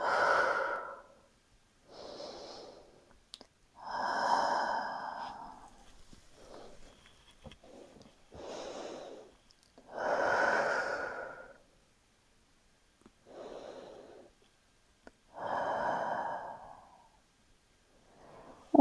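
Slow, deep yoga breathing during a beginner arms-and-shoulders session, steady alternating inhales and exhales spaced a few seconds apart, close and soft with no talking.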